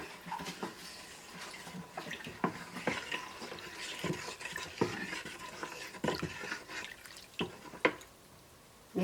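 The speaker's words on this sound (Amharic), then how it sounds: "ከዛ በኋላ ማማሰያ አለኝ፣ አማስለዋለሁ።" Keribo, an Ethiopian barley drink, being stirred with a stick in a half jug of water and flour. Steady wet swishing and scraping runs throughout with scattered sharper knocks against the container, close and fairly quiet, with no talking.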